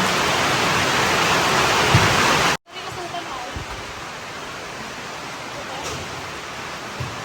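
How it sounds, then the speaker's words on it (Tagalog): Heavy rain from a storm roars as a dense, steady wash, briefly cutting out, then continuing slightly softer with occasional louder patters. "ang ulan"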